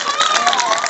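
Children in a school audience at a magic show break into brief, brisk clapping, a short burst of busy applause with faint voices mixed in.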